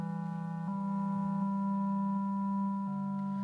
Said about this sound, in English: actually really like to bandpass sine waves